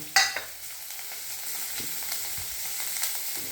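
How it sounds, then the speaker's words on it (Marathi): Onion and coriander sauté in a pan for a potato kachrya dish, with a low, steady sizzle and a few sharp stirring clinks near the start, quiet and close with no talking. "कांदा भरपूर घालून घ्यायचा, थोडा तो परतून घ्यायचा।"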